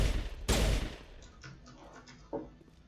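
Gunfire in the video game Mass Effect: a loud burst of overlapping shots hits at once and fades into a quieter stretch of scattered firing, with one more sharp crack near the end.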